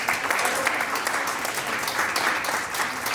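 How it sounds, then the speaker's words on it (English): A banquet audience at an awards ceremony claps steadily and densely, a full wash of applause that holds at an even level throughout. "please, can everyone give a huge round of applause to Blue Buffalo"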